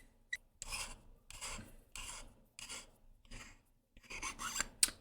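The handle of a Korbanth Starkiller lightsaber hilt being unscrewed, a series of close, gritty metal-on-metal rasping twists in short bursts separated by brief pauses.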